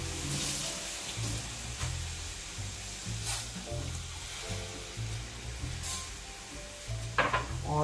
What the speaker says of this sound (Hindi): जो भी हमारे पास में बचा हुआ है ना उसमें पानी डाल के आप इसे इस तरह से डाल दीजिए